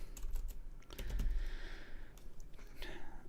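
Close, rapid typing on a computer keyboard, a quick run of light clicks and taps with faint background noise and no clear talk.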